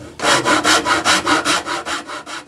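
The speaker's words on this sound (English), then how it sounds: "Using a rasp just above the first fret, I make the groove." A rasp files a groove into a wooden guitar neck just above the first fret, close and loud, in about ten even back-and-forth rasping strokes with a regular rhythm.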